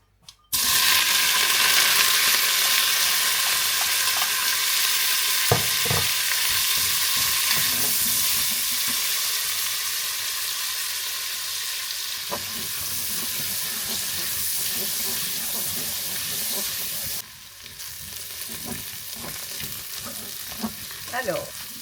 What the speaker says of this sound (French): l'huile est chaude, je vais pouvoir y mettre les oignons